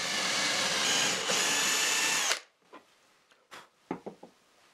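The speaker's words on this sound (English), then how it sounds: "I am going to drill the holes for the wooden dowels, as close to the edge as the lower centering stops of the doweling jig allows" A drill with a doweling jig bores a dowel hole into melamine-faced particle board, running steadily for about two seconds before stopping, followed by a few scattered knocks and clicks.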